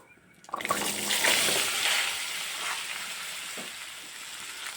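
Cut taro pieces drop into hot oil tempered with cumin, whole garam masala and bay leaf, bursting into a loud sizzle that then settles into a steady, softer frying hiss.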